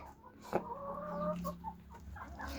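Several chickens cluck softly at close range, with scattered murmuring calls and a brief sharper squawk amid low background noise.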